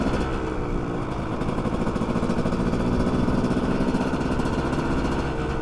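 Dirt bike engine running steadily and fairly loud through a gear shift, clutch in and up into the next gear, a continuous mid-pitched buzz with slight rhythmic flutter and no talk.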